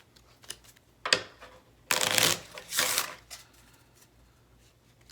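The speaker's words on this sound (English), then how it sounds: "So let's go ahead and reshuffle this." Deck of game cards shuffled by hand at a table, several quick riffling bursts with a longer ruffle in the middle, close and fairly quiet with no talk.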